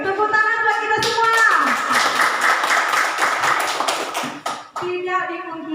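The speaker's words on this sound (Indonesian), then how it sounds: "Tepuk tangan buat kita semua." An audience claps during a teacher's presentation, a burst of scattered applause lasting a few seconds between stretches of voices.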